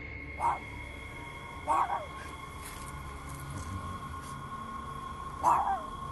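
A dog barks three times at a distance, spaced apart, over a low steady background hum.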